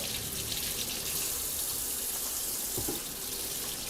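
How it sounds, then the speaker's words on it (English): Tap water runs steadily into a sink as hands are washed, a close, continuous hiss with a brief splashy change near the end and no voices. "I'm gonna wash my hands right now"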